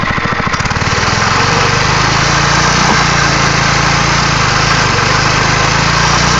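Small mini bike engine droning loudly and continuously during a burnout, a close, buzzy high-revving whine held steady without a break.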